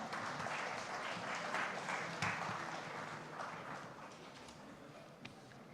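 An audience at a banking conference inaugural session applauds to welcome dignitaries on the dais, a moderate wash of clapping that gradually thins out.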